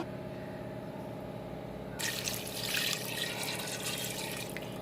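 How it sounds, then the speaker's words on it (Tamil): Water starts pouring partway through, a bright splashing gush into a cooker holding mutton over a low steady hum. "சேர்த்துட்டு முழுகிற அளவு தண்ணி ஊற்றிக்கலாம்."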